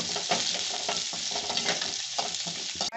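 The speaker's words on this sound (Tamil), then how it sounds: "இதை நல்லா வதங்கட்டும்." Onions and curry leaves sauté in a pan for a Tamil bitter melon tamarind gravy, giving a loud, steady sizzle with stirring scrapes throughout and no talking.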